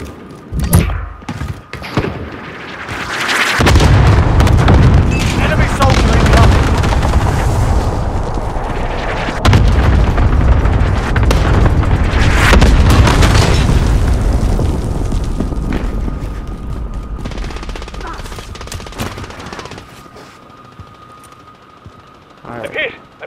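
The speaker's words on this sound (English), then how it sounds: "Allied cluster strike inbound." Cluster strike in Call of Duty Warzone, a long run of heavy booming explosions and thuds that rumble for many seconds, loud and low, then fade into quieter gunfire while players talk.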